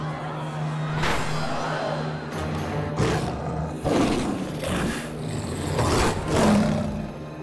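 A cartoon werewolf roars in a long, sustained, growling bellow that swells and fades over several seconds, loud and continuous with a rough, dense texture at a circus.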